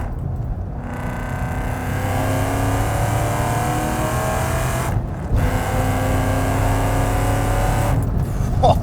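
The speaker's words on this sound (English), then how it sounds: "It sounds so good. Those Borla mufflers back there." A 600 hp Shelby Mustang GT500 with Borla mufflers and long-tube headers drones loudly from inside, its exhaust holding a deep, steady roar that rises under load, with two brief dips where the sound cuts out.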